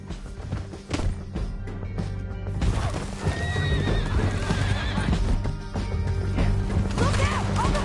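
Horses gallop in the western video game Red Dead Redemption 2, with fast clip-clop hoofbeats, a sharp whinny and crashing impacts over a dense action soundtrack that builds louder partway through.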